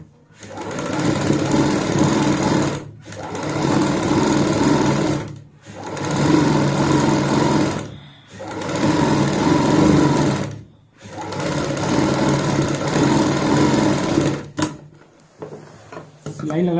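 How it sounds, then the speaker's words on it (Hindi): Sewing machine stitching a seam along the top side of a cuff sleeve for a kurti or blouse, running in five long steady bursts with brief pauses between, loud and close, no talk over it. "साइड में एक पैर चौड़ाई वाली सिलाई लगाएंगे।"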